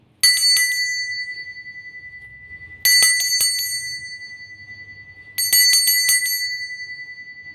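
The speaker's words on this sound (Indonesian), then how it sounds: "dengan ditandai lonceng berbunyi" A small bright bell rings three times in quick trills, each ring ringing out and fading before the next, loud and close.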